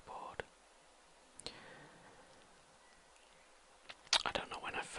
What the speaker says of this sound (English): the sound of a keyboard and typing on a keyboard